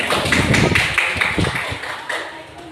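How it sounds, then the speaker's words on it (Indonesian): A short burst of applause from a small group, clapping briskly and fading out, with a voice speaking briefly over it. "Kasih tepuk tangan."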